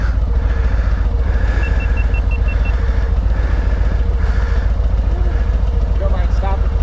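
An Indian motorcycle's engine runs close and loud in a steady, throbbing idle with low pulsing rumble, on a moto-camping ride in the Ozarks, Arkansas, with people talking over it and a faint beeping in the background.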